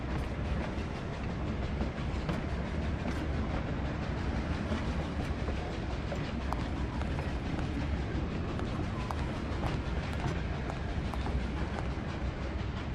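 A train in a point-and-click adventure game rolls steadily along the rails, with a constant low rumble and scattered rhythmic clicks and clacks of the wheels throughout.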